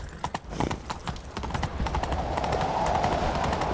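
Horse hooves in The Witcher 3: Wild Hunt clip-clop in a rapid galloping rhythm, growing into a loud, busy rush of hoofbeats with a faint whinny in the mix.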